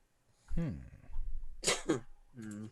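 A person sneezes loudly and close during a tabletop game session, with voiced bursts and a breathy follow-up, and brief talk nearby.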